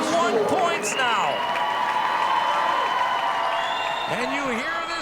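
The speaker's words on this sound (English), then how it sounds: "And you hear this crowd." A basketball crowd at a Northern Michigan University women's game cheers and applauds a record-setting layup, a loud continuous roar with whistling tones rising and falling while an announcer talks over it.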